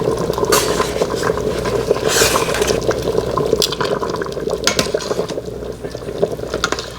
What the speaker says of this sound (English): You can really see it bubbling now.